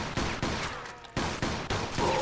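Gunfire in Mafia 2 rings out as a string of loud, evenly spaced shots, roughly one every half second, each with a short echoing tail and no talk over them.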